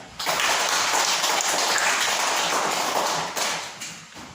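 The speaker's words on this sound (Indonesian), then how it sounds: "Tepuk tangan dulu untuk Bina" Classroom applause for a student named Bina at an Indonesian primary school: a dense, steady burst of many small hands clapping for about three seconds, then tapering off.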